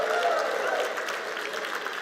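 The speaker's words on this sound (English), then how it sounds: "please make some noise and give me a round of applause" Conference audience applauding at a public administrators' forum, a steady, dense wash of clapping held evenly for about two seconds without a clear break or individual claps.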